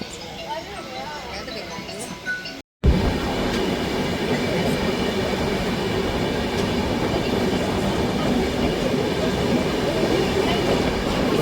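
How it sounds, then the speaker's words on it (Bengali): The NJP Howrah Shatabdi Express enters a railway junction with a loud, continuous rolling roar, clattering wheels and faint squeals close by. A voice talks briefly before the train's noise takes over. "এনজেপি হাওড়া শতাব্দী এক্সপ্রেস খানা জংশন ঢুকছে।"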